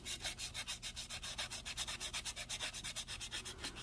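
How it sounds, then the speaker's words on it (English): Steady back-and-forth hand sanding with fine 400-grit sandpaper along the body lines of a 1969 Dodge Charger R/T, close and even in a rapid rhythmic scratching pattern with light pressure, no talking. "Just kind of let the sandpaper do the work, especially on those body lines."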